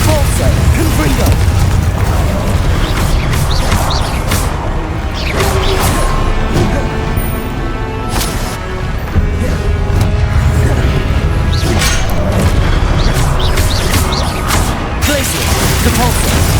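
Spell combat in Hogwarts Legacy against an ancient titan boss: dense, loud bursts of magical explosions, crashes and whooshes pile up continuously, with a shouted voice calling spell names over the din.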